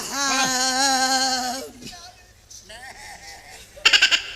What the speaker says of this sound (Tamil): ஆட்டுக்குட்டியை கூப்பிடுறாரு வாத்தியாரு.